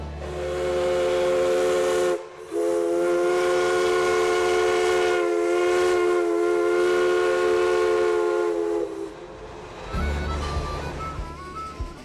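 A loud, sustained train whistle blows for several seconds with a brief break near the start, then cuts off, leaving low rumbling rail noise, on a line along the Greenbrier River.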